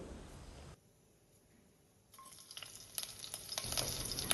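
Chillies, onion and capsicum frying in oil in a cooker pan make a low hiss that drops almost to silence for a moment, then returns as stronger sizzling and crackling with stirring scrapes building toward the end.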